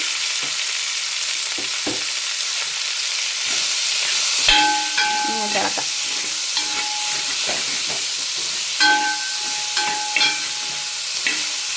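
Chicken curry frying and being stirred in a pan, a steady sizzle with scraping strokes of a spoon against the metal recurring throughout, close and fairly loud.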